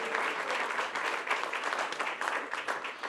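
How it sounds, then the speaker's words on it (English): An audience claps steadily and fairly loudly for a few seconds, a dense wash of many hands with no single voice standing out. "So can everyone clap for Cameron and say, thank you?"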